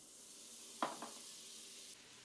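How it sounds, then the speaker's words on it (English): Butter hits a hot stockpot for French onion soup with a brief, faint sizzle and a couple of soft hiss bursts, then low steady background hiss. "it's probably going to sizzle really loud when I put this in"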